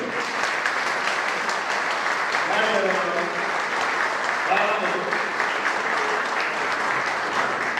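Audience applause at a CHP party congress, sustained steady clapping from a crowd filling the hall throughout, with a voice speaking over it in places.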